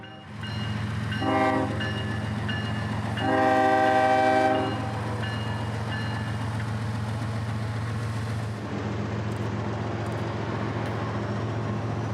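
A CSX freight train rolls past with a steady low rumble. Two horn blasts sound, the second longer than the first, before the noise eases slightly.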